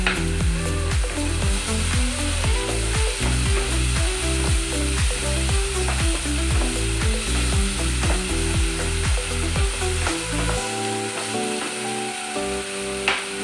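Tomato paste sizzling as it fries in a pan with cumin and dried chilli for a Bengali potato dish, a dense, loud, steady crackle with repeated rhythmic mechanical clicks throughout, no talk.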